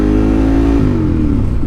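A Ducati motorcycle engine revs hard in false neutral, a loud close roar holding high then dropping in pitch as the revs fall away.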